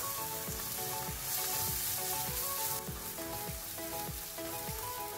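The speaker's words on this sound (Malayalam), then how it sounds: "ഇതിൻ്റെ പച്ചമണമൊക്കെ മാറുന്ന വരെ ഒന്ന് വഴറ്റിയെടുക്കാം." Garlic paste and masala sauté in a pan for a cooker pulav and paneer bhurji, with a constant crackling sizzle close up. Rhythmic scraping strokes of stirring repeat through it and peak briefly in the middle, and no one speaks.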